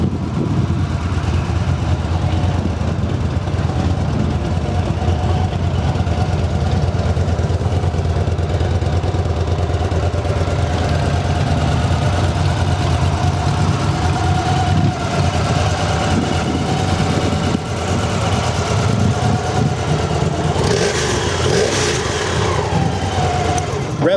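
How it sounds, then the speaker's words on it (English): A Victory Cross Country motorcycle with a 106 cubic inch Freedom V-twin engine runs steadily nearby, a loud continuous idle that swells slightly in revs near the end. "That 106 Freedom V-twin, man, that thing's a powerhouse."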